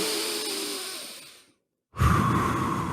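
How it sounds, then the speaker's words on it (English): Deep rhythmic breathing: a long, slow exhale fades into a brief silence, then a fresh airy inhale or exhale begins, close and clear with no talk. "So do deep heart focused breathing."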